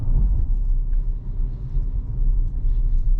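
The turbocharged four-cylinder of a 2022 Audi Q7 45 Premium pulls under acceleration, a loud, low, steady rumble heard from inside the cabin.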